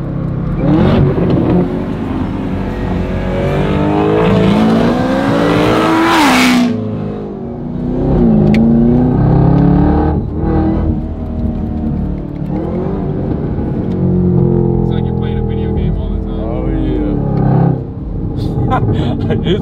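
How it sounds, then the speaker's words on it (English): A Chevrolet Camaro engine revs up and down through a downshift, rising pitch sweeps repeating over about twenty seconds, loud and close, with people talking over it. "See, so the Camaro, whenever you downshift it"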